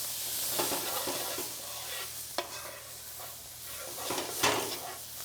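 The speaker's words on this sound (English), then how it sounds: "Just grab your spoon and go ahead and just mix that right in." Onions, garlic and black pepper sizzle steadily in hot oil for BBQ shrimp while a spoon stirs them, giving scattered scrapes and clicks against the pan over a continuous frying hiss.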